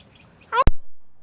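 One short, harmonic bird call sounds from a park tree, close and clear, followed immediately by a sharp click, with near silence before it.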